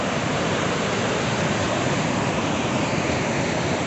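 The Lagunillas mountain river rushes past in a loud, dense, steady roar of churning water, close and unbroken, with no voices.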